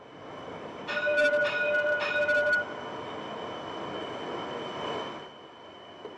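A Metro Express train at Rose-Hill station, Mauritius, on a busy morning: a brief series of clear tonal chimes over rail noise, then a steady mid-level rumble that fades out near the end, with no talk.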